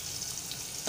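Onion and a quarter spoon of asafoetida sizzle in hot oil for a Malvani egg curry, a steady close frying hiss that stays even and unbroken, with no talk.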